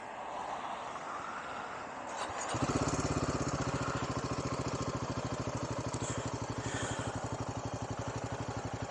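A Royal Enfield Himalayan 450 motorcycle fires up after a brief crank, then settles into a steady, even idle with a rapid regular thump from the exhaust, heard close and alone.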